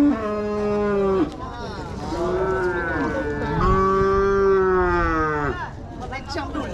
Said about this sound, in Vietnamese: Đây, bò này.